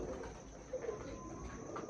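Breeder pigeons coo softly inside a room given over to the birds, with low, muffled calls over a steady background hum and a slight rise midway through the brief stretch.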